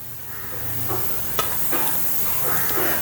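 Thinly sliced jackfruit seeds, green chilli and curry leaves cook in a pan with a soft continuous sizzle and hiss, punctuated by light scraping taps of stirring.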